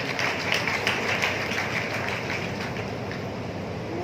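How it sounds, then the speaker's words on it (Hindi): Religious gathering audience applauding to welcome a Maharaj, a steady dense patter of many hands clapping at moderate volume, continuous across the whole stretch and gradually easing slightly toward the end. "आप जोरदार तालियों से सभी स्वागत करें"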